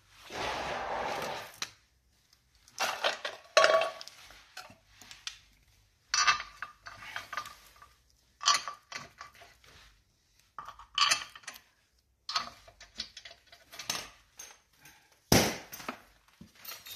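Sharp metallic clinks and clanks sound while a spare tyre is refitted into its well on a Renault Twingo 4. The bursts are close and intermittent, with quiet gaps between them.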